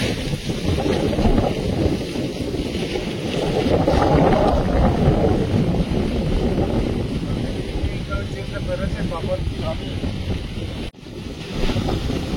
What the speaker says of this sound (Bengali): দুপুরবেলা এইভাবে ঝড় উঠবে তো বুঝতে পারিনি।